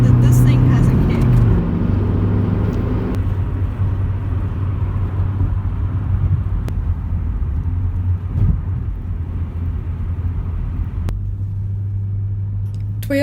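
Toyota MR2 on a test drive, a steady low engine drone and road rumble from inside the car, loud and continuous throughout, with a voice talking over it.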